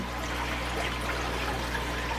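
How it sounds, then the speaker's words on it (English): Water from a tap runs in a steady, gentle stream over a tea strainer at close range, held there just long enough to wet it, with a soft constant trickle and no voices. "I ran this on the water just to get it wet"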